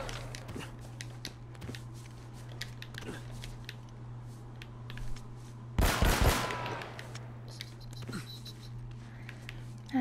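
Gunfire in Uncharted: Drake's Fortune: a scattered run of faint, quick shots ticks along at a distance, then a loud close burst of rapid fire erupts briefly, with sparse shots after, under a low steady hum.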